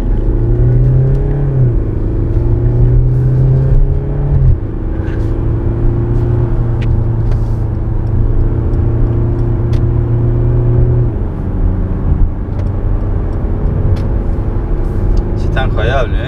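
Mercedes C 200d diesel car engine revving steadily, a loud close droning rumble whose pitch rises and holds for several seconds, drops briefly, then settles into a sustained hum, with a voice speaking over it.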